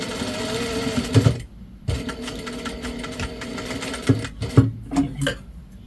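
A sewing machine stitching a seam on a cuff with a thumbhole, running in steady mechanical bursts with short pauses and backtacking, close and fairly loud.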